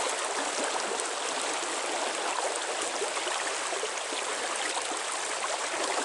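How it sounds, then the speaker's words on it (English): Narrow, fast-flowing trout stream water in Wisconsin rushing steadily, a dense, even hiss of current with no breaks, close and moderately loud, no voices. "this is, again, some more narrow and super fast water."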